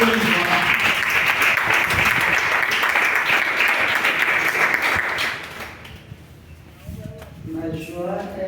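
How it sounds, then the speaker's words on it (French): A church congregation applauds during a praise service, loud sustained clapping that fades after about five seconds, followed by quieter sounds and a voice. "Donc, acclamons le Seigneur pour la joie."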